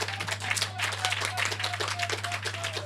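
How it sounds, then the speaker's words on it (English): An audience at a disability awareness symposium at a special education school claps hands together in a steady, dense patter of many overlapping claps, moderately loud over a low constant hum. "I want you to clap your hands real loud."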